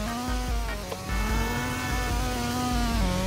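A loud, close car engine in a Roblox driving game hums at a steady high pitch, revving up slightly now and then, with no talking.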